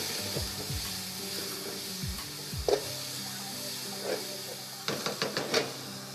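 Onions frying in oil with a little cinnamon, a steady soft sizzle broken by several sharp scraping stirs of a utensil against the pan, close by.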